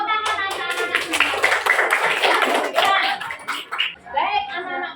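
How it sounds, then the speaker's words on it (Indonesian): A group of schoolchildren in a classroom claps together in a quick burst of hand claps, with children's voices and chatter mixed in throughout. "Tepuk tangan anak-anak semua."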